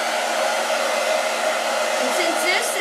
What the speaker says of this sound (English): let me hit it with the dryer